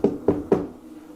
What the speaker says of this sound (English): Can you knock like this for us?